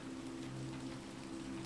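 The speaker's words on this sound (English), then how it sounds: "lulled by the symphony of the rain" Soft, steady rain falling at night, a faint continuous patter with no voices.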